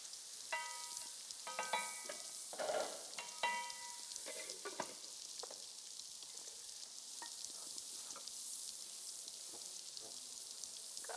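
Tomatoes and garlic sizzle in a pan for a Kenyan meal, a soft steady frying crackle with stirring clinks and scrapes early on, quiet and close.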